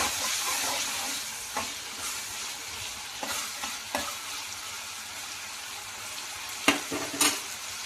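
Masala fries in oil for a fish curry, a steady close hiss of sizzling broken by scattered spoon scrapes and a few sharper knocks near the end.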